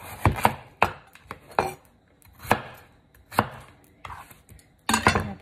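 Sharp knife strikes chopping potatoes on a cutting board for a chicken vegetable soup, close and loud, coming in irregular bursts of several quick cuts with short pauses between.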